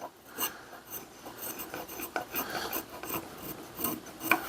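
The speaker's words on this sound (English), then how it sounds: "going to practice with the spoke shave a little bit and try to get some more uniformity to it" A spokeshave shaves a wooden handle for an antique pickaroon, giving a series of close, raspy scraping strokes in an uneven rhythm, with no talk.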